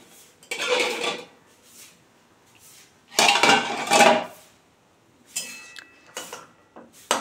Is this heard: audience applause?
no